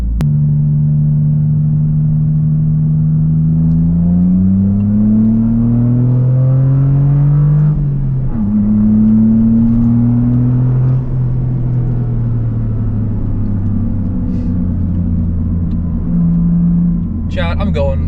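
A Toyota GR Corolla with a new aftermarket exhaust drives on a public road, its engine note droning loudly and rising and falling through gear changes and throttle, with talk over it.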